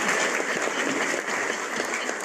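Audience applause at a company seminar or meeting, a steady dense burst of many hands clapping throughout, close and full without pause.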